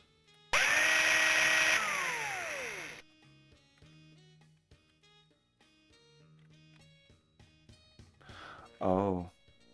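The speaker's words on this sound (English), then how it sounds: "A small switch mounted at the base of the drill." A drill mounted on a concrete base starts up loud and steady in the 1989 video game Tex Murphy: Mean Streets, whining for a couple of seconds before cutting off, followed by quieter game music and tones.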